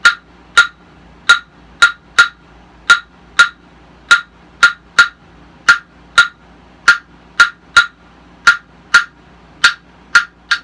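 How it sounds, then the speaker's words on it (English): A steady run of sharp, bright wooden clicks from claves playing the Cuban rumba pattern, repeating and syncopated, close up with no other sound around them. "special clave used in rumba from Cuba sounds like this."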